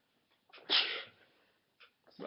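One close, sharp human sneeze with a breathy intake before it, followed by quiet breaths in an otherwise silent room.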